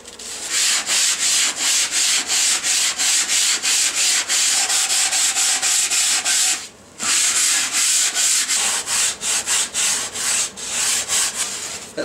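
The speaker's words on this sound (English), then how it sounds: "this is readily sandable, this material. You should use a sanding block so it makes a nice smooth contour." A sanding block rubs back and forth over a foam airfoil, giving loud rhythmic scratchy strokes about two per second, with a brief pause midway before the strokes resume.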